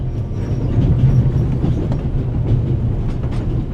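A train from the video game The Raven rolls along its rails with a steady low rumble and faint rhythmic clatter, continuous and fairly loud throughout.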